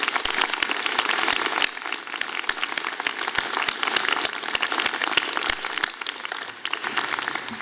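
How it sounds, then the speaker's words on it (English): Sustained audience applause at a university convocation ceremony for graduating arts and sciences students, a dense steady wash of many hands clapping at even loudness throughout, with no talk over it. "So I'd like to ask for a round of applause to thank our amazing students for making that happen."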